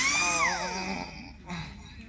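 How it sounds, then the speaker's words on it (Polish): A power drill whirs in a GTA V roleplay game, a high motor whine that sweeps downward and then drops to a lower hum over about two seconds, close and steady. "Mam poruszać wiertarką?"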